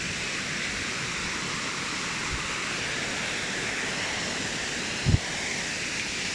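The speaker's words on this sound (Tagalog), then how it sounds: "naririnig nyo ba ang lakas ng tubig?" A rushing waterfall at Braemar Hill roars as a steady, dense wash of noise, constant and fairly close, with a couple of faint brief bumps near the microphone.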